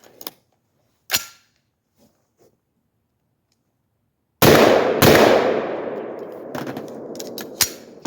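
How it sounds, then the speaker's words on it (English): Two 5.56 rifle shots fired through a Deer Creek Stealth Blast muzzle device, heard as sharp loud cracks half a second apart, each ringing out in a long decaying boom, after a few faint earlier clicks and knocks. "So we're going to shoot 2 rounds now,"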